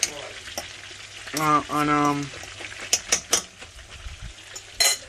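Fish fries in a pan as garlic and chili sauce go in, a crackling sizzle with clinks and stirring bursts, while someone talks briefly over it.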